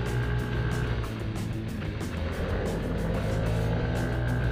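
A SYM JET SL scooter engine accelerates on a rainy test ride as a loud, continuous drone blended with rushing wind, close to the rider with no pauses. No one speaks.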